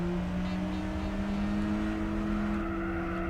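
Race car engine at full throttle in the video game Gran Turismo 4, a steady sustained drone holding a constant loud pitch throughout with no talking.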